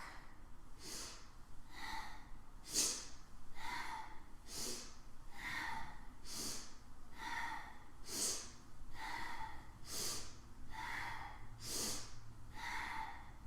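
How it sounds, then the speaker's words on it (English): Slow, rhythmic yoga breathing during a Kundalini practice, with about ten strong, close inhales and exhales through the nose at a steady pace of one breath every second or two and no speech. "Inhaling forward, exhaling back."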